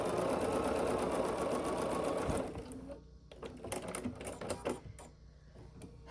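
A sewing machine runs steadily, stitching a white background piece across the diagonal of a scrappy sampler quilt block, then stops and gives way to a few quieter clicks and handling taps.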